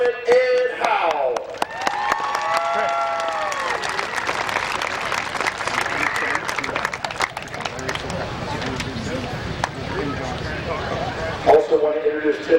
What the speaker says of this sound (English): let's give him a big Ohio Midvale Speedway cheer that you can hear all the way up there in Beaverton, Michigan